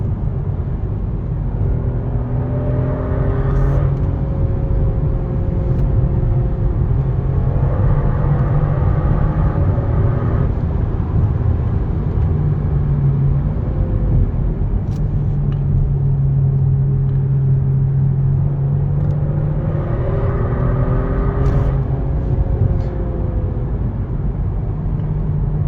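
A 2022 Genesis G70 AWD cruises along with a steady low engine rumble and road noise filling the cabin, the engine note swelling and easing through gear changes, with no talk.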